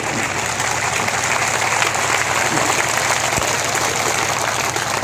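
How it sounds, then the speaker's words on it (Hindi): A crowd at a political gathering claps continuously, a dense, even wash of applause that stays loud for the whole stretch. "जोरदार ताली बजा के स्वागत करिए"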